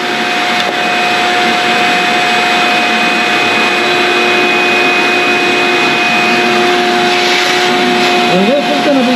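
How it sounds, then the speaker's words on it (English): Shop vac running steadily and loudly throughout, a constant broadband roar with a whining tonal hum, used to suck up fiberglass dust during a hole repair. "Shop vac is a great thing to have around. That's going to help control the dust."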